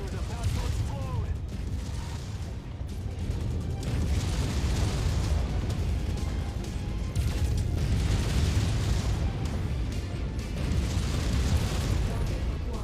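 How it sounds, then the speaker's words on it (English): A mech's reactor blows up in Mechwarrior 5: Mercenaries, a rumbling, bursting explosion swelling and rolling across the stretch amid steady battle noise, with radio voices speaking over it. "reactor is about to explode"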